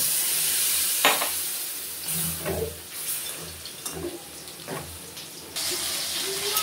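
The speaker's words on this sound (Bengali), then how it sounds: "এখন জল দিয়ে দেব।" Water is added to a sizzling soybean and potato curry, giving bursts of hissing and splashing over the steady frying sizzle, with a few stirring sounds.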